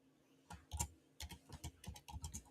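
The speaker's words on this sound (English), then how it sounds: "if you hear me up here typing" Someone types on a computer keyboard, with irregular bursts of nearby clicking keystrokes starting after a brief pause and no talking.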